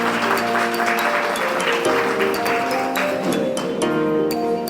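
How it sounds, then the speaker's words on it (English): Steady applause from a crowd at a school staff stress management session fills the whole stretch, dense and continuous with no voices breaking through. "Please give her a huge round of applause."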